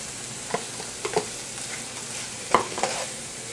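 Spinach is tossed into a hot pan while eggplant cooks, giving a steady close sizzle with several scraping stirs and clatters of a utensil against the pan, and no talking.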